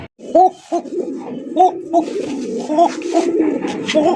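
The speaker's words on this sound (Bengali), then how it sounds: "জোড়া লাইট কালারের সবজি রেসার কবুতর" Light-coloured racer pigeons, a pair, cooing in close, steady low hooting phrases that repeat every half second or so, fairly loud and continuous with no talk over them.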